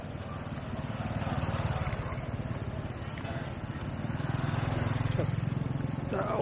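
A motorcycle rides up on a road near Chiang Mai, its mid-pitched engine running steadily close by while someone talks over it.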